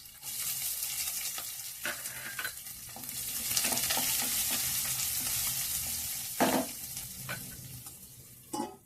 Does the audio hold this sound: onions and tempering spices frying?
yes